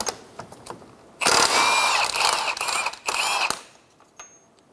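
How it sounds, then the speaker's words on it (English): A 32mm axle nut comes off a 2007-2012 Nissan Altima CV axle: a loud, close mechanical burst of tool rattling lasts a couple of seconds, pauses briefly, resumes, then gives way to light clinks. "Remove your 32mm axle nut."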